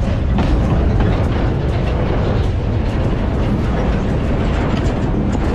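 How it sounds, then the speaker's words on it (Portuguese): A freight train wagon rolls past close by, a loud, dense rumble with rapid rhythmic clatter from the wheels on the rails, sustained throughout. "Nunca tinha visto passar esse vagão"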